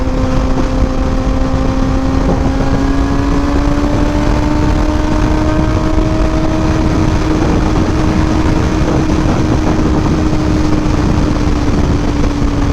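A Kawasaki ZX6R motorcycle accelerates hard at high RPM, its loud, continuous engine whine rising steadily in pitch and holding near the top of the rev range for many seconds.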